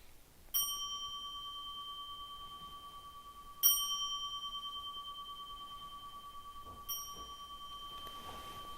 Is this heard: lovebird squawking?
no